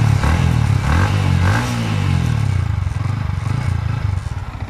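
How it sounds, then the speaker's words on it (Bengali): Exhaust of a second-hand Yamaha MT-15 motorcycle running steadily, a loud, continuous low engine drone from the silencer with no talking. "সো প্রথমে সাইলেন্সারের সাউন্ডটা শুনব।"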